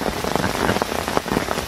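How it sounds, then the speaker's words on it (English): Rain falls steadily on a lake and nearby surfaces during a fishing session, a dense, close patter of drops with no talking. "the rain has certainly kicked in"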